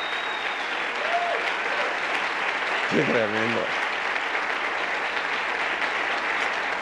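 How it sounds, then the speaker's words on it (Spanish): A church congregation keeps up continuous applause during a worship service, while someone briefly speaks over the clapping partway through. "démosle otro aplauso al Señor"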